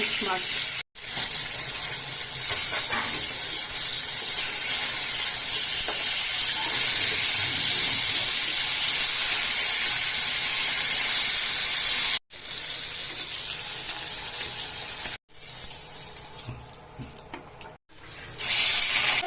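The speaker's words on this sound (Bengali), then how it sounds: "আর যদি মাছ ভাজা আরম্ভ করি" A loud, continuous sizzling hiss of fish coated in salt and turmeric frying in hot oil goes on throughout, broken by a few brief cuts, with a voice faintly underneath.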